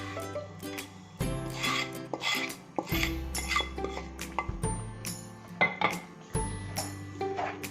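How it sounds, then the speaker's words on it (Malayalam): Semolina being stirred into boiling water for upma in a metal pot. A spoon scrapes and clinks steadily against the pot in repeated strokes at close range, with no talking. "നന്നായിട്ട് വെള്ളത്തിനോടൊപ്പം മിക്സ് ചെയ്തെടുക്കുക"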